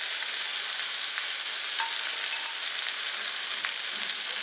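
Grated carrot and capsicum fry in a pan while making rava idli, a steady close hiss of sizzling with faint scattered crackles and no voices.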